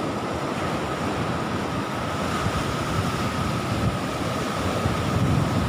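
Continuous monsoon-season surf crashes and hisses along Nong Bua Beach in Thailand while wind blows steadily across the microphone, with no voices.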